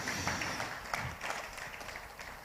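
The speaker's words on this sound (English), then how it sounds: "A round of applause for the NCC one more time." A conference audience in Nigeria claps in a steady round of applause, a dense even patter of many hands filling the hall throughout.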